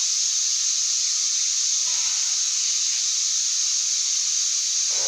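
Aerosol liquid sprayed onto rusted bolts on the front brakes of a 2000 Dodge Durango, a close, steady hiss that breaks off briefly near two seconds and again near five.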